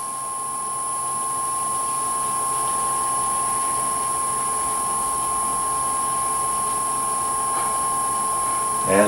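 Wood lathe spinning an acrylic bottle stopper at about 1,100 RPM, giving a steady, close motor whine with a high constant tone and a faint rubbing hiss layered over it, unbroken throughout.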